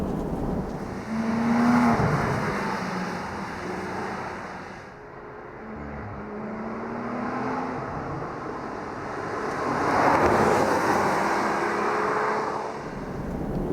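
A Porsche GT3 RS 4.0 engine roars under wind noise, its pitch rising and falling as it climbs through the revs past 8,000 RPM at speed, swelling loudest near the end.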